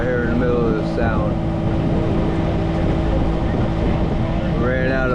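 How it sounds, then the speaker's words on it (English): A sailboat's auxiliary engine drones steadily out on Long Island Sound after the wind dies, a loud continuous low rumble mixed with wind and water, with brief voices faintly over it. "we fired up the engine and trying to head back to New Haven"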